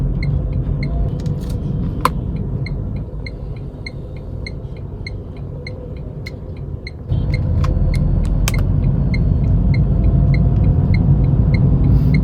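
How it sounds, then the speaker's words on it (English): Cabin noise inside a Tata Tigor BS6 sedan while driving, a steady low road and engine rumble with a few small rattles and clicks, growing louder partway through. "And this is the noise you will get inside the car."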